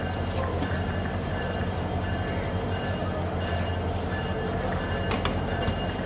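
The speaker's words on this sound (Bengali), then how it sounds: "এই লোকোমোটিভের যে ঢ্যাং ঢ্যাং শব্দ" Bangladesh Railway 3000 series locomotive number 3013 hauling the Sonar Bangla Express from Dhaka to Chittagong, a loud steady engine drone with rumbling wheels and scattered clanks, heard from on board.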